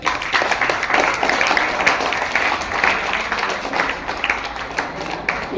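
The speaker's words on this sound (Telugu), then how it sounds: "అన్నవాళ్ళు గట్టిగా చప్పట్లు కొట్టండి" A school audience at a state-level Kala Utsav arts event claps loudly in dense, continuous applause that holds steady from start to finish.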